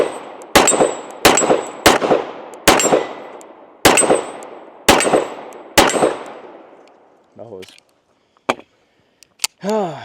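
Seven loud, close gunshots from a Springfield TRP 1911 pistol, fired at a steady pace with ringing decay after each, followed by a voice talking and faint clinks.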